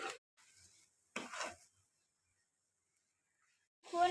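A spoon stirs mashed garlic in mustard oil in a pan, with a few short, soft scraping strokes separated by quiet pauses and a louder stroke at the end.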